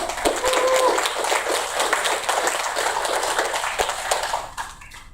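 Audience applause at a community event in Los Angeles greeting the head of a local civic group, a broad wash of many hands clapping that fades out toward the end, with some voices mixed in.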